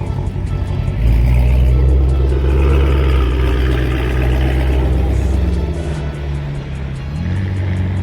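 A McLaren sports car engine revs hard and loud at a car meet, a deep steady roar swelling after the first second and holding, with faint voices in the background.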